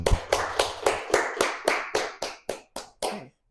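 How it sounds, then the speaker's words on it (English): A short, thin round of clapping after a physics colloquium talk on galaxy cluster magnetic fields, about a dozen distinct claps sounding close and sparse, like a few hands, ending abruptly. "Another big round of applause for our speaker."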